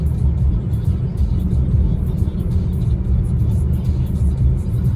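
A car drives along an empty rural village road in northeast Thailand, giving a steady, close, low engine and road rumble that holds level throughout, with no talking.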